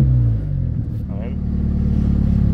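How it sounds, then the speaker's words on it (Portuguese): A car engine with a loud, rumbling exhaust idles close by in a deep, steady drone, with a person talking over it. "Vocês escutaram aí, tá com ronco, um escape roncador"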